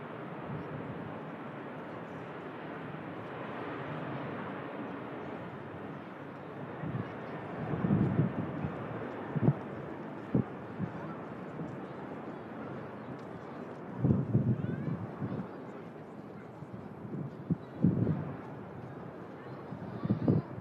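A Boeing 737 airliner taking off down the runway, a distant broad jet roar rising and falling amid gusty wind noise, with a person talking over it at times.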